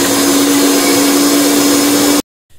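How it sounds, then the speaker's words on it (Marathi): An electric mixer grinder running loud and close as it grinds a spice masala mixture for mutton rassa, a steady whirring roar that cuts off abruptly, followed by a faint restart. "व्यवस्थित त्याला बारीक करून घेणार आहे। आणि हाच आपला खरा मसाला तयार होईल।"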